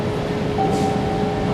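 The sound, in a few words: Boston Orange Line subway train arriving through the tunnel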